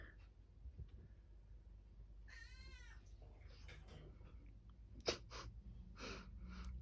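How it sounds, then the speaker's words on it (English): A cat gives one short, faint meow indoors, surrounded by quiet rustling and a few sharp handling noises. "The cat's just being a pain in the arse."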